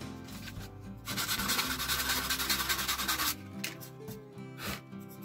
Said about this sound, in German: Ein bisschen drüber schleifen.